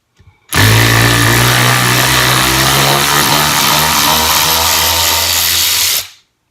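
A 16V cordless long neck ratchet whines loudly and steadily while driving a bolt deep in a tight spot, one continuous run of about five and a half seconds before cutting off abruptly.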